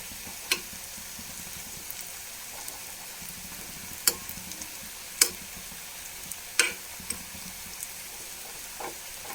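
Oil sizzles softly and continuously with scattered sharp clicks and pops as potato pakodas fry in a pan, no one speaking.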